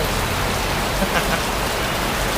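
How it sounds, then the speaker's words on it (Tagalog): Heavy rain pours down on an outdoor motorcycle display, a loud, dense, continuous hiss of drops drumming on surfaces with no letup. "Wawa talaga kami pag ulan guys. Basa yung aming ano display. Lakas ng ulan."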